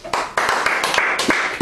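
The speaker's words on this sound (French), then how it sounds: "Est-ce que nous pouvons applaudir la parole de l'Éternel?" A church congregation clapping, a brief loud patter of many hands with uneven surges, heard close for just over a second.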